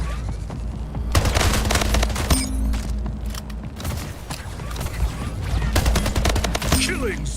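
Rapid gunfire in the arena shooter Splitgate, with repeated bursts of loud shots and crackling impacts over a steady low rumble of game sound, continuing almost without pause.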